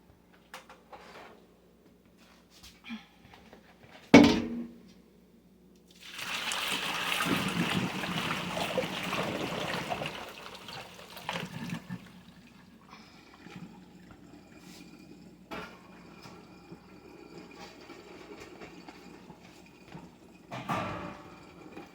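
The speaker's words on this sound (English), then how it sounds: "I'm going to strain that because I don't need the cooking liquid" Cooked pumpkin is strained and its cooking liquid drained off. The water pours steadily for several seconds, then thins to trickles, with scattered kitchen clinks and knocks around it.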